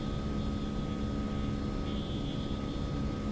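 A steady, droning aircraft engine in a video game flight simulator, flown with a TCA yoke, holds a constant hum with a faint high whine throughout, no voices.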